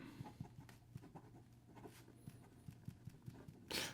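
A Leonardo Momento Zero Grande ebonite fountain pen with a medium 14k gold number 8 nib writes on paper, making quiet, close scratchy strokes in an irregular rhythm, with a brief louder rustle near the end.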